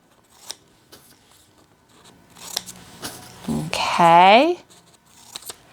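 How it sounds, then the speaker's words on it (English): Scissors cut out paper shirts nearby in a classroom-style setting, a short run of snips and paper rustle with brief speech around it. "I'm going to cut out my 5 shirts now"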